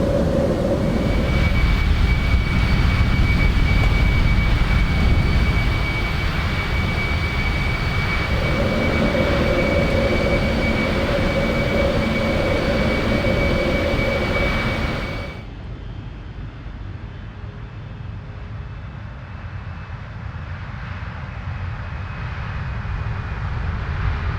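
Airliner jet engines in a flight simulator climb after takeoff, a loud steady roar with a constant high whine, which drops abruptly to a quieter, duller drone partway through.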